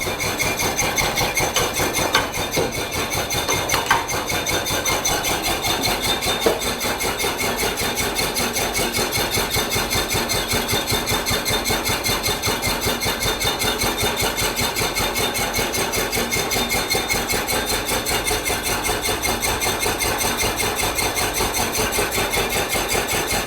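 An M5 portable mining wave table's motor runs steadily and loudly on its own, a continuous mechanical drone with a fast, even vibrating rhythm throughout.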